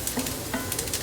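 Vegetables sauté in a hot pan, with a steady close sizzle and a few stirring scrapes over about a second.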